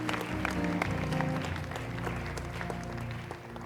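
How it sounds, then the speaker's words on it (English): Audience applause at a church youth book launch, a steady, dense wash of many hands clapping from start to finish, fairly loud and even, fading slightly at the end. "can we clap for Pastor Gabe Itodo?"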